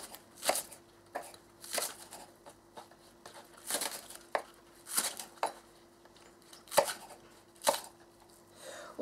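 A knife cuts spring onions into coarse pieces on a board, producing crisp, close chops in uneven bursts with short pauses between them. The kitchen is otherwise quiet.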